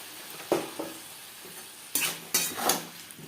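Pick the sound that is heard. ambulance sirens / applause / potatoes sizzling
potatoes sizzling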